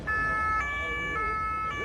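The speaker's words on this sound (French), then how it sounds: "Je vais lui demander de mettre la sirène." Siren on a police vehicle at a CRS stand at a motor show in Marseille, a steady, fairly loud tone holding across the whole moment, with faint background murmur.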